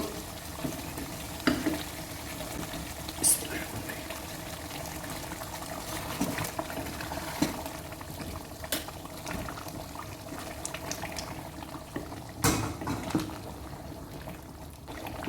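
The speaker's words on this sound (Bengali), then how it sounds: "এখন আমি গরম পানি দিয়ে দিব।" Hot water poured onto fried spices in a pan for Arabic-style chilli chicken, a low bubbling boil with scattered pops and a few sharper clinks, moderately quiet and steady.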